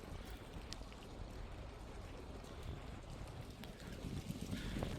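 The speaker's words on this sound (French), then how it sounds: "C'est vraiment le bruit du vent dans les arbres." Steady rushing wind through trees during a thunderstorm in Isère, a broad gusty roar with faint patter mixed in, swelling slightly toward the end; no voices.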